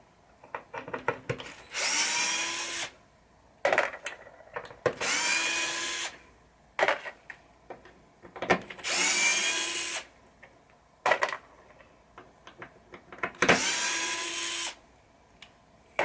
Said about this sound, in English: Just going to get the correct screwdriver